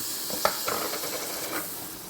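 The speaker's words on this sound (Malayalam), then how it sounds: "ഇതിലേക്ക് പകുതി തക്കാളി അരിഞ്ഞത് ചേർക്കാം" Chopped tomato sautés in hot oil for a Thrissur-style beef and tapioca curry, a steady close sizzle and hiss with a sharp spatter as the pieces land, then a faint stir.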